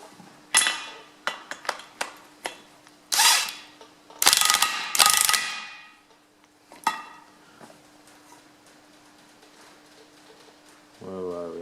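Ratchet spanner tightening a nut and washer onto a Ferguson FE35 tractor rear axle housing, heard as a series of sharp metallic clicks and clanks in short irregular bursts, close up, with a steady hum beneath.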